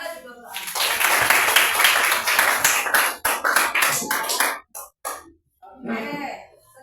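Classroom clapping by a group of students during a science lesson, a dense patter of hands lasting several seconds before breaking into scattered claps, with children's voices in the room.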